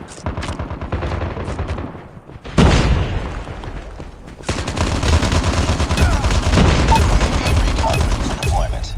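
Rapid bursts of machine gun fire in the mobile shooter Call of Duty Mobile, loud and close, with a brief pause and then sustained rattling fire through the end.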